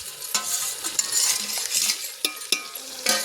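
Chicken mixed with turmeric, salt, biryani masala and curd frying in hot oil, a bright crackling sizzle broken by several sharp utensil clinks and scrapes against the pot.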